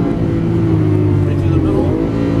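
A green 2012 Lamborghini Aventador on a Las Vegas racetrack roars loudly, its engine droning steadily and pulling through gear changes, with an instructor's voice talking over the engine noise.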